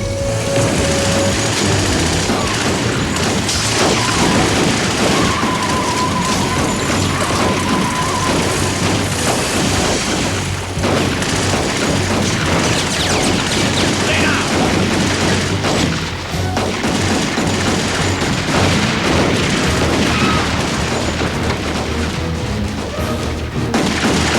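Loud, dense gunfire from a classic gangster drama, a sustained barrage of overlapping shots and booms that runs almost without a break, with no speech over it.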